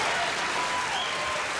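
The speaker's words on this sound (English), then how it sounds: "they're applauding the show" Studio audience at a taping of The Tonight Show with Johnny Carson applauding steadily, a dense, even wash of clapping that holds at the same loudness throughout.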